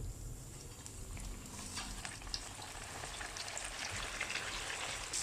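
Floured tilapia frying in hot oil, a steady dense crackle and sizzle that runs through the whole moment with small pops scattered across it, close up and fairly quiet.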